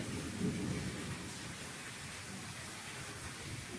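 Heavy monsoon rain pours down as a steady, dense hiss, with a low roll of thunder swelling briefly near the start and no voices.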